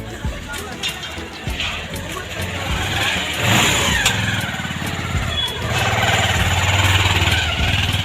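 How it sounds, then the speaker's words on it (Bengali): A motorcycle passes along a sloping road near Mall Road in Nainital, its engine swelling from a distant drone to a close, steady rumble and revving, with other street noise and traffic around it. "এই যে বাইক চলে যাচ্ছে"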